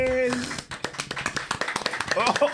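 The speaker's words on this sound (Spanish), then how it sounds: "¿De dónde que vienen esos aplausos?" A live show audience claps in scattered, rapid bursts throughout, with a loud voice speaking over the applause.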